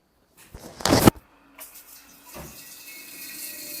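A tap is switched on to fill water for a tank, giving a brief loud gush, then a quieter, steady flow that slowly builds, with no voices.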